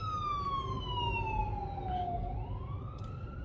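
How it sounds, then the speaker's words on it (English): An ambulance siren wails on a road, its single tone sliding steadily downward and then rising again as it passes, heard over a constant rumble of traffic. "we got a ambulance coming"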